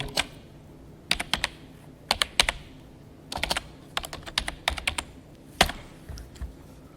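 Fingers type on a computer keyboard in quick bursts of key clicks separated by short pauses, close and fairly crisp with no talking.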